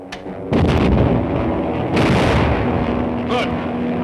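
Gunfire in an old Dick Tracy film serial, a loud booming burst followed by a sustained rumbling roar with further sharp reports, heard alone with no talking.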